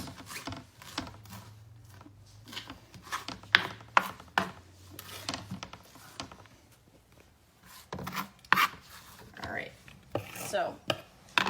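A kitchen knife chopping fresh cilantro on a cutting board for a Texas caviar salad, with quick irregular taps and scraping strokes, close and fairly quiet, with short pauses between runs.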